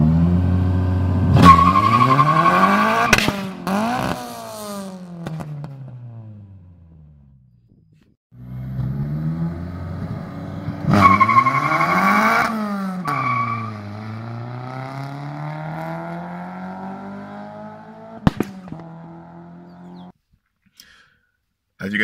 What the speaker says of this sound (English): is about to take a draggy run